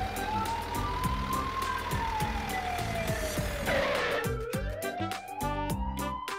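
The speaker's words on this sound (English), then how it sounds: "It's an ambulance." A toy ambulance siren wails in a steady rising-and-falling sweep, loud and close, over a busy background of children's music with bright tones.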